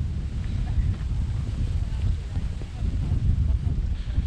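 Breezy wind buffeting the microphone outdoors by Ladybower Reservoir near the remains of Derwent village, a constant low rumbling roar with gusty swells, fairly loud and uninterrupted.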